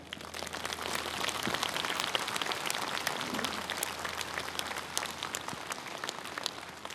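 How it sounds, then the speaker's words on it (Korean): Steady applause from a large crowd at a national rally of Buddhist monks, a dense, continuous patter of many hands clapping at moderate volume throughout, with no talk over it. "대중들의 힘찬 박수와 함께 시작하도록 하겠습니다."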